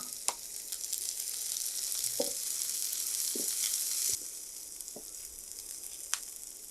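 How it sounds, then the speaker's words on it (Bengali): Onions and green chilies sizzling in oil in a pan, a steady bright hiss with occasional spatters and the clink of stirring, close and fairly quiet, with the sizzle easing partway through and no one speaking. "পেঁয়াজটা আমি খুব বেশি ভাজবো না"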